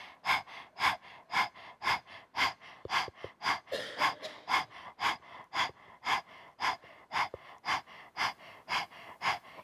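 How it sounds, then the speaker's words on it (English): Rapid, rhythmic panting breath from a yoga practice, the puppy-breath exercise with the navel pumping in and out: sharp, evenly spaced breathy bursts, close and loud, continuing steadily with no talk. "Using like puppy breath, like you're breathing like a little dog, panting."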